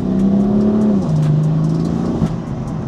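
BMW M4 fitted with a new downpipe accelerates hard with wheels spinning, its loud engine drone rising in steady pitch steps through one gear change, continuous and close throughout.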